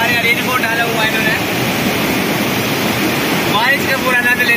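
Floodwater flows through a village after heavy rain, a loud, continuous rushing wash of water close by, with voices faintly mixed into the roar.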